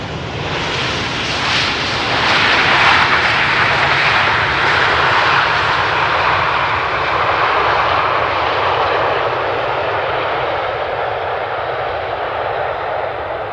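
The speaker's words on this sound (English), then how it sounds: "737 from KLM was that" A KLM Boeing 737 jet airliner landing at Amsterdam Schiphol on runway 18R, its loud engine roar sweeping past close by and then slowly fading in a continuous rushing whine.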